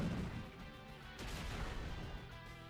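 An Explosion move from a Pokemon Raging Ruby game bursts as a dense, crashing blast that fills the whole stretch at steady loudness, with a second surge of noise midway and no talk.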